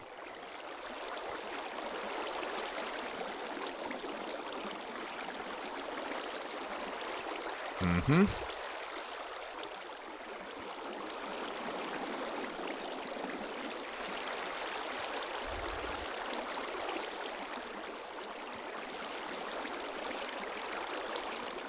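Flowing water poured from buckets in the video game Minecraft, a steady broadband rush and trickle running the whole length, with a brief louder splash near the middle and no talk over it.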